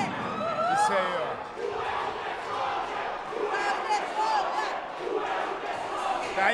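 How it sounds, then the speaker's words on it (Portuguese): A crowd of fans at a GP Extreme fight event shouts and cheers loudly, with overlapping voices, whistles and chanting rising and falling continuously across the whole stretch. "Tá aí a torcida."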